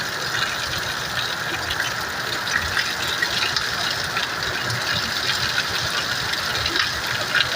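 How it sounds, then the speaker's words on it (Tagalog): A steady gush of rushing rainwater from a sudden downpour fills the scene, continuous and unbroken, with a low droning hum beneath it. "pakinggan nyo na lang ang agos ng tubig."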